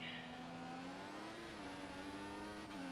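A Red Bull Formula 1 car in F1 2014 closes in and passes, its high-pitched engine whine rising steadily over the player's own engine drone, then easing off after the overtake.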